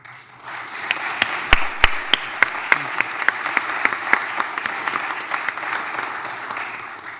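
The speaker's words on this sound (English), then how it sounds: "Let's give them another round of applause" Conference audience applauding a panel, a sustained, even patter of many hands clapping with a few sharp, close claps standing out, steady for several seconds.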